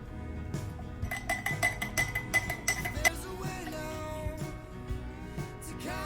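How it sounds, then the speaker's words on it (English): Milk and ice cubes going into a glass of iced latte sweetened with brown sugar, heard as a string of close, bright clinks and rattles of ice against glass that fade into softer settling sounds. "I'm also going to add in milk and ice."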